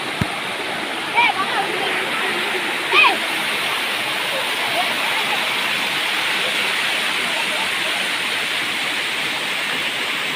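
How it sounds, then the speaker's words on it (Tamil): A mountain waterfall on Sathuragiri roars as a dense, continuous broadband rush of falling water, loud and steady throughout, with a couple of brief faint voices and a short click early on. "அருவியாலே ஓடுகிற தண்ணியாலே அதாவது இந்த நிறைய அருவி இருக்குது."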